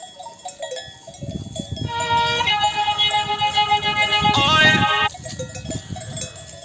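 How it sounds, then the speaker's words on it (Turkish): Sheep and a Sakız ram graze in a mountain pasture, their bells clanking and jingling in an uneven, overlapping rhythm that swells in the middle, with faint scuffling beneath. "Bu da bizim sakız koçumuz"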